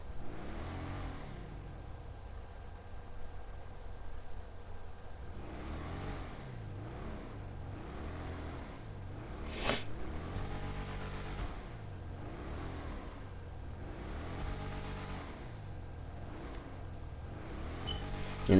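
A Declasse Vamos muscle car without a turbo in GTA 5 revs and accelerates in repeated engine swells, a mid-loud motor rising and falling in pitch through several gear changes.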